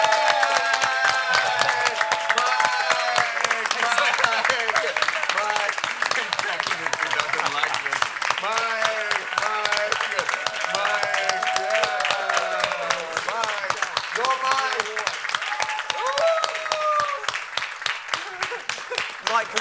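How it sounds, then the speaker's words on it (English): Conference audience clapping at a medical meeting on kidney cancer treatment, a dense sustained patter of hands with many voices talking and cheering over it throughout. "Just stand up and clap."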